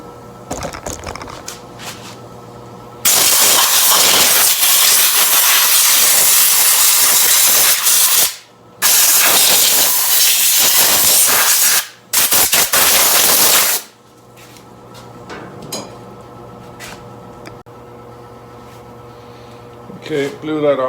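Compressed air blasts dirt off the top end of a 1990 Harley-Davidson FLHTC Evo engine, three long loud hissing bursts each several seconds long, with quieter workshop hum between them.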